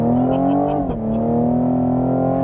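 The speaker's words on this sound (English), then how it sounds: "I hit the brakes all the way down, hit the throttle. It makes a Woody Woodpecker sound, and I let go of the brakes, and we get that" A 2020 Cadillac CT5-V launching from launch control, its engine roaring loudly and close with a steady rising drone, a brief dip as the brakes release, then pulling hard in sustained acceleration.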